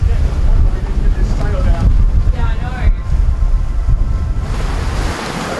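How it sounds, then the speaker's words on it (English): Strong gusting wind buffeting the microphone aboard a sailboat at sea, loud and continuous roaring with rushing water beneath, and a voice briefly audible through the noise. "I think the wind's gonna die down."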